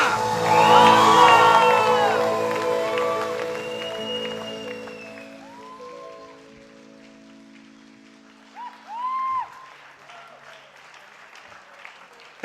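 A crowd bursts into loud applause with whoops and cheers that gradually fade, then a short second round of clapping and shouting rises near the end.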